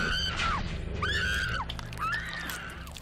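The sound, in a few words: actress screaming in a horror film clip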